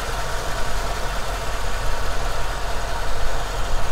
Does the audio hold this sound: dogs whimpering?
no